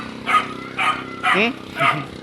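A dog barks four times at a steady pace, fairly close, near a Coast Guard barracks by the boats in Navotas City, with a person talking in the background between and under the barks.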